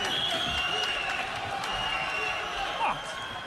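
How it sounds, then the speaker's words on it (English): Crowd at a professional boxing match between Miguel Vazquez and Denis Shafikov, cheering and clapping in the tenth round as a continuous arena roar under a commentator's voice. "Crowd trying to fire up the Miguel Vasquez."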